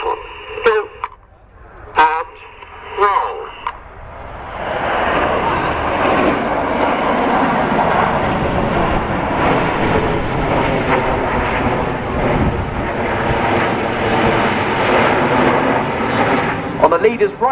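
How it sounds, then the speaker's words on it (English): Red Arrows jets fly the tight Apollo roll formation at the Cosford Air Show with a loud, sustained roar that swells after a few seconds and lasts throughout, following a short opening of sharp clicks and crackles. "The jets here are about 5 to 6 feet apart as they fly the Apollo roll."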